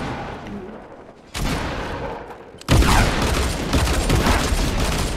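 Gunfire in a Fortnite match, with a rapid burst of shots followed by louder, dense, near volleys that keep rattling to the end, no one talking.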